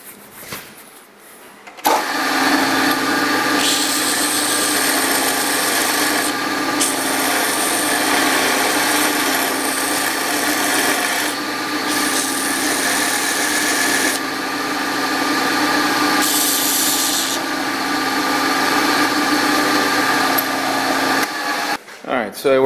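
Belt grinder grinding metal in a workshop, a loud continuous abrasive whine with the motor hum underneath, pressure varying as the work moves along the belt, running nearly twenty seconds before spinning down.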